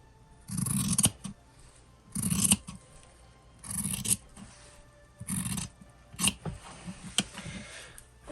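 Scissors snip through a folded square of fabric scrap in four or five distinct crunching cuts with brief pauses between, close and clear with no talking.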